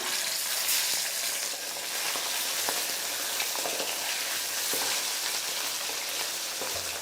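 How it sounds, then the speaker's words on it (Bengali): Fish heads frying one by one in hot oil give a loud, continuous, close sizzle and crackle that holds steady throughout. "এবার এখানে আমি একে একে মাছের মাথাগুলোকে ভেজে নিচ্ছি"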